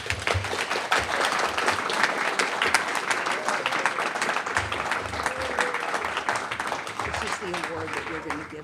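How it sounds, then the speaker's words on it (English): An audience at a community services annual meeting applauds an award presented to a senator, producing a steady, dense wash of clapping under continuous talking voices throughout. "join me in a round of applause in presentation of this award to the Senator"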